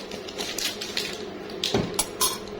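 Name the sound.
beating cake batter with a spoon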